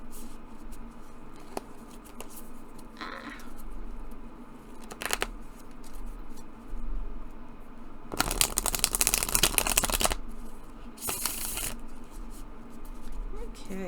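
Tarot cards with a matte feel riffled and shuffled in a few bursts, one long crisp flurry in the middle, close up, with quiet handling sounds and faint talk around them.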